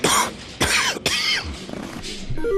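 Three or four harsh, explosive coughs in a row, close and loud, with short breaths between them.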